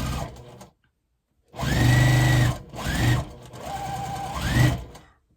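A sewing machine stitches in three bursts after a short pause, each run a steady mechanical whir with rapid needle ticking that speeds up and slows down, close and alone.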